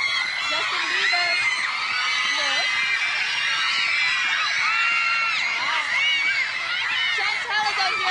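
A dense crowd of fans screams and shrieks for Justin Bieber without pause, with high, piercing voices overlapping loudly and close by throughout.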